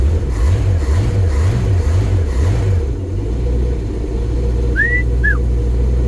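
A carbureted MerCruiser boat engine idles just after starting, a loud low rumble that surges in a slow rhythmic wobble before settling to a steady drone. A couple of short whistle-like chirps sound near the end, with no talk.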